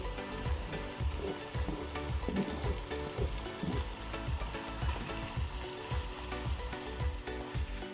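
Chicken with bell peppers and carrots sizzles and fries in a pan, with steady loud crackling and repeated scraping stirs throughout, no talking.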